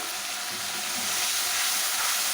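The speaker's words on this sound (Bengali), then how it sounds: "মশলাটা ভালো করে কষিয়ে নেব" Mustard and poppy seed paste fries in a pan while being stirred, producing a dense, steady hiss of sizzling that swells slightly louder partway through, close by and continuous, without any speech.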